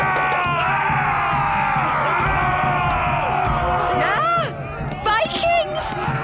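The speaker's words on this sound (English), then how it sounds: "Vikings! Running around and shouting." A crowd of cartoon Vikings runs around shouting, their overlapping yells, whoops and bellows loud and continuous, the voices rising and falling in pitch.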